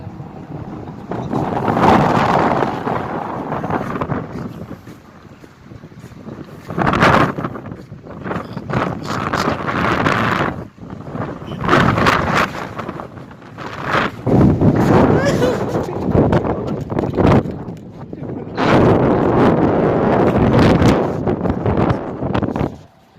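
Very strong sandstorm wind roars and buffets the microphone almost nonstop, with gusting surges and rumbling blasts, while someone speaks intermittently under the noise.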